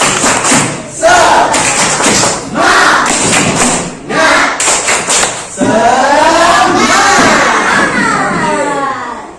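A class of schoolchildren performs the tepuk semangat chant, shouting in unison in loud, rhythmic bursts punctuated by heavy group claps, with a longer sustained shout near the end.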